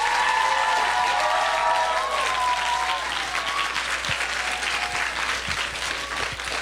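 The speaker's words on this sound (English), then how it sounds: "Let's give her one more giant round of applause" A conference audience at a 2012 keynote speech gives the speaker sustained, loud applause, with a few cheers and whoops rising above the steady clapping.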